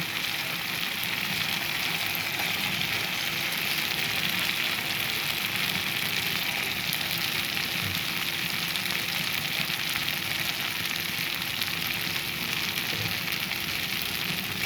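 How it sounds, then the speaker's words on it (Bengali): Steady, loud sizzling of capsicum frying in hot spiced oil, a continuous crackling hiss with no voices. "এখন দিয়ে দিচ্ছি ক্যাপসিকাম"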